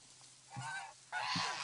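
Geese being trained to cross a bridge together let out two loud honks close by, the second longer and harsher, over quiet background.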